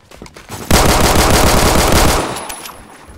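MP5K submachine gun firing a sustained burst in the Roblox shooter Phantom Forces, rapid loud close rattle of shots for well over a second, then tapering off, with no talking over it.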